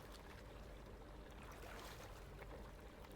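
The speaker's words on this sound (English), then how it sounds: "Give them another cold water rinse." Steady rushing water from a cold water rinse of gun parts in the video game Gunsmith Simulator, a continuous broadband splash and flow at even loudness with no talking.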